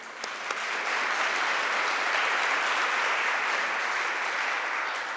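Audience members at a middle school honor society induction applaud the students, with a dense, even wash of clapping that swells in after a couple of sharp claps and holds steady.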